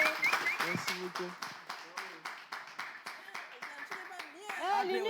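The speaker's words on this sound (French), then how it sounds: "est-ce qu'on peut applaudir?" Rhythmic, evenly spaced handclaps from a small gathering at a French-language broadcast, running beneath continuous talking and lively voices that swell toward the end.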